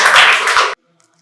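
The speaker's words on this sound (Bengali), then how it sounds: "জোরে হাততালি হোক একবার।" Audience applause at a quiz competition prize ceremony at Santiniketan Medical College and Hospital, a dense, loud burst of many hands clapping that stops abruptly after under a second, leaving near silence.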